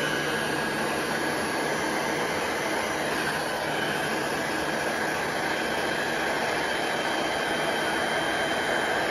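A heat gun shrinks heat-shrink tubing onto a wire, producing a loud, unbroken blower roar with a steady hiss close to the microphone and no speech.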